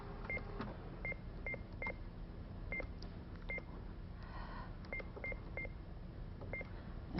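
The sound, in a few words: fax machine dialing a phone number, DTMF tones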